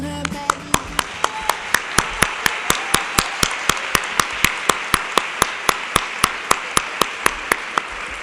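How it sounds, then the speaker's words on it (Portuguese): Audience applause closing a provincial mental health and addictions congress: steady, evenly spaced sharp claps repeating across the whole stretch over a broad crowd wash, fairly loud and with no talking. "Un aplauso para todos."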